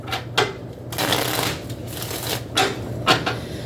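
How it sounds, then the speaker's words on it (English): Quick riffling bursts of shuffled tarot cards, several short flurries in a row, close and crisp with no talking. "that was a shitty shuffle"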